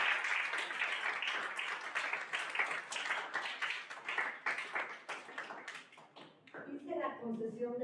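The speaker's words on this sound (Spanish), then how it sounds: "Démosle un fuerte aplauso y la bienvenida a esta Feria Universitaria del Libro" Audience applause welcoming a speaker at a university book fair, a dense, sustained crowd clapping that fades after several seconds as a voice begins talking.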